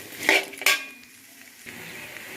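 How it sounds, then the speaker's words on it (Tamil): Turmeric, cumin and mutton masala stirred in a pan over low heat: two sharp metallic clinks of a spoon against the pan, then a quiet, faint stirring rustle with no speech. "சிம்மில் வச்சு நல்லா பரட்டி விடுங்க"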